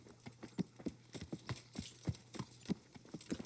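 Horse hooves galloping in Kingdom Come: Deliverance, heard as a steady run of fairly loud, close clip-clop beats over a low background hum.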